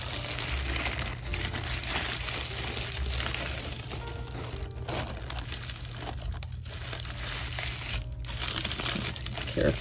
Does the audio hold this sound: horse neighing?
no